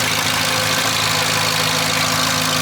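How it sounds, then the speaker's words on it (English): A steady idling engine hums with a fast, even ticking of clicking valves running through it, close and constant throughout. "If you listen, you can clearly hear the clicking noise."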